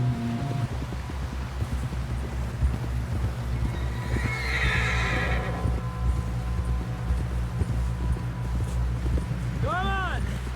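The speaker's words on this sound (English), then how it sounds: "Someone help John down off this horse" Horse in the Western video game Red Dead Redemption 2 gives a clear whinny near the end, with hooves clip-clopping steadily throughout under loud, overlapping voices of characters.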